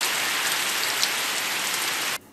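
Steady rain patters densely on a surface, an even, close hiss that holds constant and then drops away abruptly at the end.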